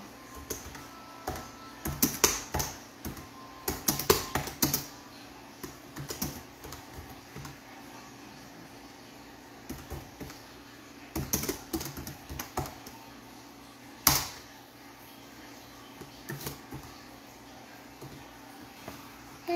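Bursts of keyboard typing come through a phone's audio, with quick clustered key taps separated by pauses and one sharper clack near the end; no voices.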